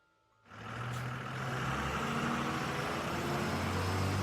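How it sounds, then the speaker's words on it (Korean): An engine starts up abruptly and then runs as a steady, loud, low rumble that holds for several seconds without any speech. "엔진 소리였어요."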